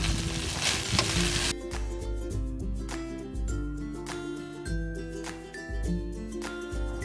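American fried rice being stir-fried with rice in a hot pan: loud continuous sizzling close up, broken by repeated rhythmic scrapes and tosses of a spatula against the pan, no voices.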